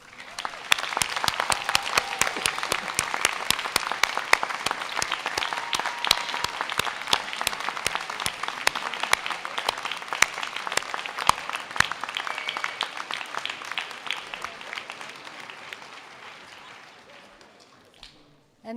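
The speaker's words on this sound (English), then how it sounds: "And I think we need another round of applause." Sustained applause from a large audience at a University of Salford winter graduation ceremony, dense steady clapping that holds for most of the stretch before tapering off near the end.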